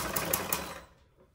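A sewing machine stitches lace onto the folded edge of a dupatta, running in a fast, steady whir up close, then slowing and falling quiet within about a second.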